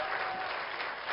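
Audience applause at an award ceremony, a dense, continuous wash of clapping from a large crowd, steady and fairly loud throughout the brief moment.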